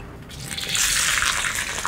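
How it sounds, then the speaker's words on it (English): Cherry tomatoes dropped into hot oil in a wok for spicy noodles set off a loud, dense sizzle and spatter that swells within a second and keeps crackling steadily. "Now stand back because this is gonna splash a little"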